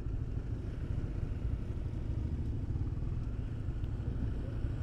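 A 250cc V-twin motorcycle with a stock exhaust idles at night in a low, steady, pulsing rumble that stays even and moderately faint throughout.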